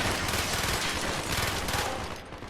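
Dense, continuous automatic gunfire from a Call of Duty: Black Ops firefight, loud and unbroken rapid bursts filling the whole stretch with no pause, tapering slightly at the end.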